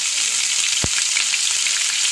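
Loud, constant sizzling of ginger frying in hot oil in a pan, broken once by a single dull knock partway through.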